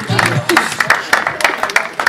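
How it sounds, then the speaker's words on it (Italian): Applause for the players after a tournament, a dense patter of hand claps from a small crowd with voices talking over it, close and steady for a couple of seconds. "un applauso a tutti i giocatori"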